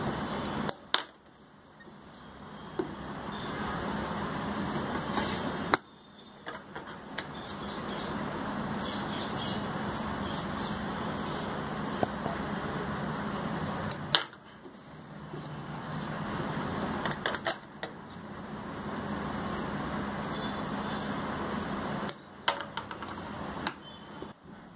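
A sewing machine stitches kameez fabric in close, steady runs of rapid mechanical chatter, broken by two brief pauses between passes.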